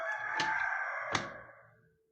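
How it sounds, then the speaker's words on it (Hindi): A rooster crows twice in quick succession nearby, each loud, strained call trailing off over about two seconds, with no talking. "अब मुर्गे की जो आवाज़ आ रही है"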